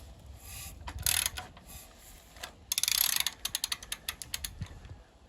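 A Triumph engine's crankshaft is turned over by hand, giving soft mechanical clicks and a brief whirring rasp, then a run of irregular ratchet-like ticks, close and fairly quiet.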